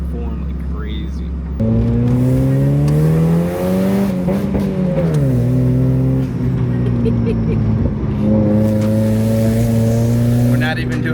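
Engine of a Mazda Miata revving repeatedly as the throttle is blipped, loud, rising and falling harmonic whine over steady engine drone, with people talking inside the car.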